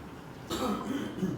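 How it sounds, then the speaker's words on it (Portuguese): A person clears their throat with a short, raspy, smoker-like rasp, a single close burst following a brief quiet moment. "E uma pigarreira, parece fumante."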